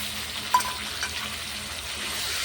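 Ginger-garlic paste with salt and turmeric sautéing in a pan over a clay stove, a soft continuous sizzle with a brief clink of a spatula early on, no talking.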